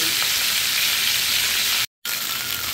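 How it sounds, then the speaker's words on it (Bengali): Steady, loud sizzling of tilapia fish frying in hot oil, a continuous bright crackle with a brief dropout near the end. "মাছগুলো এখন আমি ভেজে নেব।"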